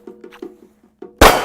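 A single loud gunshot from a Glock pistol fitted with a red dot sight, preceded by a series of short electronic timer beeps, the crack sharp and close.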